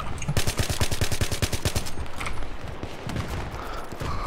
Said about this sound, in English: I heard another AN94 going